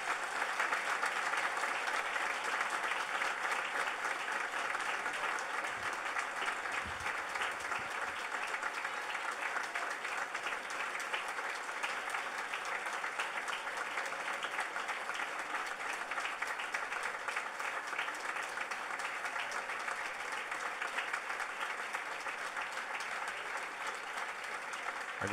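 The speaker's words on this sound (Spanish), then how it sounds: "Acompañamos con el aplauso este momento" Sustained applause from an audience at a provincial government act-signing ceremony in San Luis, steady and dense throughout, with no talk over it.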